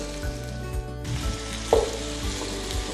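Vegetables for a vegetable korma sizzling and being stirred in a pan, a steady frying hiss with a few soft scrapes and one sharper clink near the middle, close and fairly quiet, with no talking.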